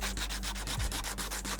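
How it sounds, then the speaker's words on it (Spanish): Steady, rhythmic sanding strokes rasp across a roe deer skull, close and even, with repeated scratchy passes and no talk. "Un cráneo de corzo se lija muy fácil y muy rápido"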